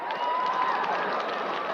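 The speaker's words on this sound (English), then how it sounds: "Now watch the applause" Crowd applause in an arena at the 1988 Winter Games figure skating, a broad, steady wash of clapping and cheering that holds loud and even throughout.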